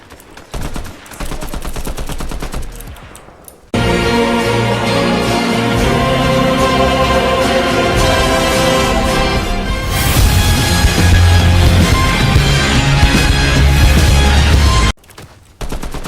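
Heavy video-game gunfire, dense rapid bursts like machine-gun fire and fusillades, loud and continuous for about eleven seconds, ending abruptly, with quieter game sounds before and after.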